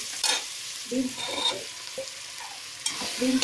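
Chopped green beans frying for a vegetable biryani, stirred in a pan: close sizzling with several scraping stirs and light clinks of the spoon against the pan, no voices.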